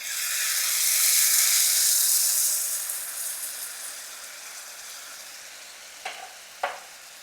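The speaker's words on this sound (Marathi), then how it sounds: "हे बघा सुरुवातीला असं 1 चमचा ओतायचं, हळूहळू जो तवाभर होतं." Fasting dhirde batter hisses and sizzles on a hot griddle, a loud bright crackle that swells early and slowly fades, with two short clicks of a spoon or pan near the end.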